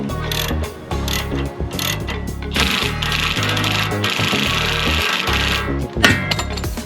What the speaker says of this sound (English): as you sort of start to tighten this bolt underneath, it starts to push this bit